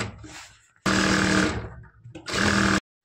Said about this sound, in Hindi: इसके लिए हम लगा देते हैं साइड से सिलाई, बिल्कुल प्लान करते हुए इसको जॉइंट कर देंगे